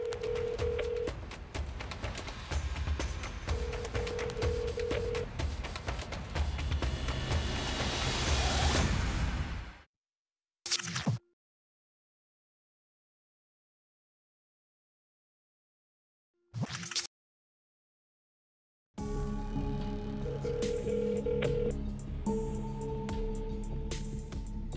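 A phone call rings out on the line before going to voicemail, the ringback tone repeating at steady intervals through a hiss of line noise, with short gaps of silence between.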